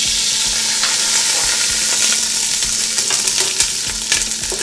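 Onion, carrot, celery, garlic and chili frying in olive oil, a loud dense crackling sizzle that runs unbroken from close up, with faint stirring scrapes and no talk.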